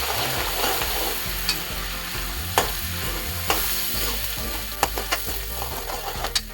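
Ground masala paste cooking in oil in a pan, a steady close sizzle with a spoon scraping through it and sharp knocks of utensil against pan every second or so, no voices.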